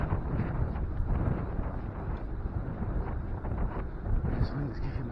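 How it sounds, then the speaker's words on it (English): Strong wind battering a microphone on a morning commute aboard a 2000 Silk Trail 400, a loud, continuous buffeting roar with gusty surges throughout. "This wind is kicking my ass."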